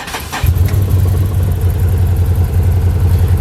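A 2016 Can-Am Commander XT 1000 side-by-side with a brand new engine cranks and fires up after a brief starter whir, then settles into a loud, steady, rumbling idle close by.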